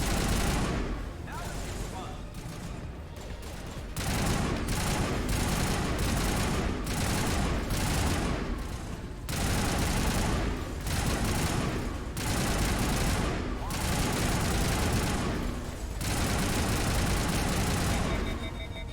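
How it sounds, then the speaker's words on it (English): Sniper fire in the sci-fi action RPG Mass Effect: sharp gunshots crack again and again in quick, uneven volleys throughout, loud and dense, layered over a rumbling combat backdrop. "Somebody's shooting at us."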